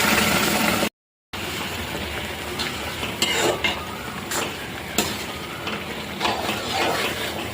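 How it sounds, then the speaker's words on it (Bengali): Jute leaves drop into hot oil already frying with dry chilli, five-spice and garlic, then get stirred: a steady close sizzle with spatula scrapes and clatters, broken by one brief gap. "এবার পাটের শাকটাকে এর মধ্যে ঢেলে দিতে হবে।"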